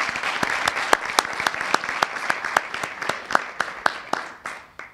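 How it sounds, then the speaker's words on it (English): A small audience claps for panel participants at a university student discussion on religion, distinct individual claps in a fairly steady rhythm that taper off toward the end. "So if we could get a round of applause for all of those individuals."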